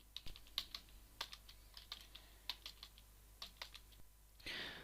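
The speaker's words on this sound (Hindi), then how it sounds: "तो अब स्टार्ट कर दीजिए टाइपिंग।" Typing on a computer keyboard, irregular clicks of keys pressed at a steady working pace, close and quiet, no talking.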